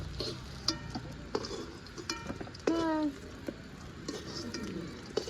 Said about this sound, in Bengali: বেগুনটা ভাজা হয়ে গেছে